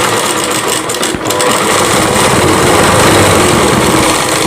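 A sewing machine stitches two fabric pieces together for a Rajputi poshak kanchali blouse, running as a loud, steady, close mechanical whir.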